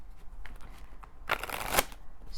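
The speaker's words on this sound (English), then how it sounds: "I just noticed you don't see me shuffling." A quick riffle of tarot cards being shuffled, a short dense burst of flicking paper close by, with quiet rustling before and after.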